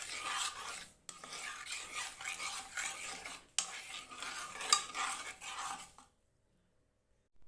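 Spices, sugar and other ingredients are mixed by hand in a bowl for a Bengali koi fish paturi, with steady close scraping and stirring strokes for about six seconds, two brief breaks, then quiet.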